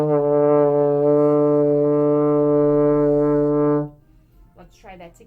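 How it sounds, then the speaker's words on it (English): A trombone sustains one steady D in fourth position, loud and rich in harmonics, for nearly four seconds before cutting off into faint room sound. "Now we're going to move to our D, which is fourth position."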